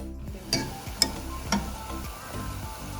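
Pakoras fry gently in oil over low heat, a soft, quiet sizzle broken by three light clinks at a steady pace.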